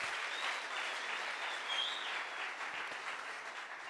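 A church congregation applauds loudly and steadily, a dense continuous wash of clapping from many hands filling the hall without pause.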